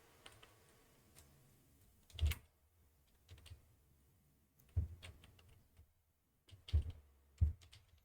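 Typing on a computer keyboard: a handful of quiet, sparse clicks and key taps in small bursts, close and soft against a near-silent background.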